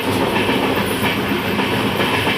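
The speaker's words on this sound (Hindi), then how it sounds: "अब बगल से छुप छुपाते निकल रही थी अमृतसर जयनगर एक्सप्रेस" Amritsar Jaynagar Express passing close alongside, a loud, continuous rumble of railcars with rhythmic clickety-clack of wheels over the rails throughout.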